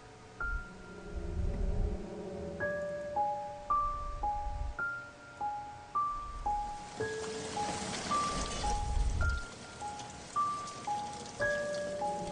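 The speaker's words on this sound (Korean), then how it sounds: "비가 내리는 소리가 그때까지 계속 들렸으며" Steady rain falls at night outside a dark studio-apartment room, a soft continuous patter under a faint recurring chime-like tone pattern, with no voices.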